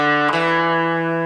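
A power chord rings out on a distorted electric guitar, part of a song: one sustained chord that shifts once early on, loud and close, with no voice.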